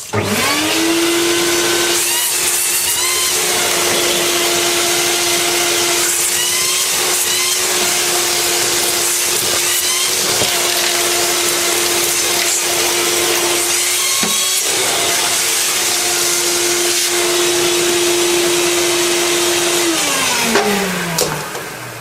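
A homemade dust collector sucks debris into a bucket with a loud, continuous motor roar and airflow. Chunks rattle through the hose now and then, and the motor winds down at the end.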